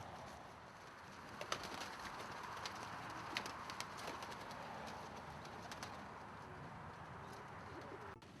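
Pigeons in a pigeon loft, soft cooing and occasional wing or foot movement over a faint steady room ambience, distant and quiet with no talking.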